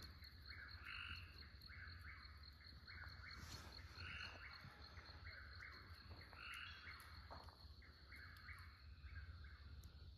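Frogs croaking at night in the LBJ National Grasslands, a regular repeating chorus of calls against steady insect trilling, with a bird calling now and then.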